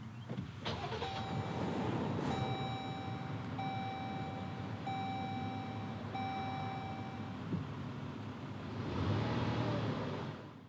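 A 2019 Jeep Grand Cherokee Limited X starts with a short crank and catch, then settles into a quiet idle under a series of evenly spaced electronic chimes, followed by a soft rise in engine noise near the end.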